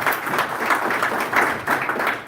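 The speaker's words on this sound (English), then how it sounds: "A round of applause for Kenya" An audience at a corporate partnership event breaks into brief, dense applause, a continuous wash of many hands clapping at moderate loudness with no clear talk.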